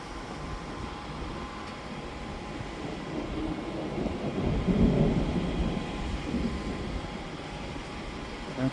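Thunder during a thunderstorm, a long low rumble that swells to a peak midway and then slowly fades, heard alone with no talking.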